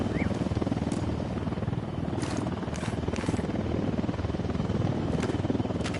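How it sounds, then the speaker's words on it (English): Drone flying overhead in a video game, a steady close rhythmic rotor thrum that continues throughout with little change in loudness. "Drone is airborne."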